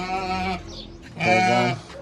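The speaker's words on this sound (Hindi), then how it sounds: "ये देखेंगे भेड़ बकरियां भी आ चुकी हैं" A flock of sheep and goats at a village house gives two loud, close bleats separated by a short pause, with faint background noise between them.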